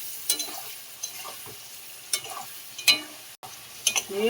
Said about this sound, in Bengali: পটলটা আমি ওই মশলার মধ্যে দিয়ে ভালো করে ভেজে নেব।